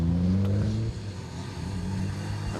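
A Subaru rally car comes in hard to an asphalt stage finish, its engine droning and revving from close range before easing off, with no talk over it.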